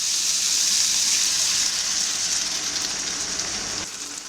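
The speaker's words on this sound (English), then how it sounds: "add more water, if needed." Water poured into a hot pan of eggplant gravy with mixed sauce, a loud close hissing gush and sizzle that holds steady for about four seconds, then drops off slightly at the end.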